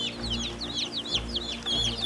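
A chick character from a cartoon about a fighting rooster gives high, rapid chirping cheeps over a low background hum, a busy run of squeaky calls with no speech.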